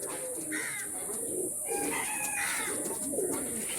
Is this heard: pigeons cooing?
yes